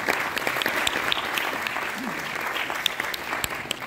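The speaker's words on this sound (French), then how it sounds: "Sous votre applaudissement, s'il vous plaît." Audience applause at a Senegalese student national assembly event in France, a steady, dense round of clapping from a hall crowd throughout, with no talk over it.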